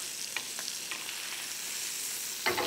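Lamb searing in a hot pan as it is basted, giving a steady, moderate sizzle throughout with a few brief spoon clinks and a sharper burst of spitting near the end.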